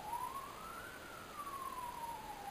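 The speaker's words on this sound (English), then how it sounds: "the ambulance has just gone past my house" An ambulance siren wails steadily, its pitch rising then slowly falling as it passes, heard at moderate distance over background hum.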